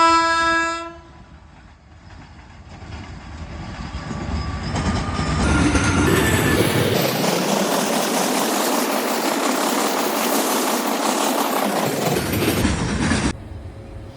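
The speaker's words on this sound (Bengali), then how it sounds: "এই ট্রেন আসছে।" A train approaches and arrives at a rural station in Dantan, West Bengal: a horn sounds briefly at first, then rumbling wheels and clattering cars swell and stay loud before cutting off abruptly.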